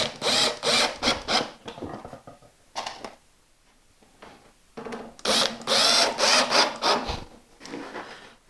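Drill driving screws into a wooden board while building a Festool systainer storage rack, with two loud close bursts of rapid whirring and grinding and a quieter gap of rustling and handling between them, with no talking.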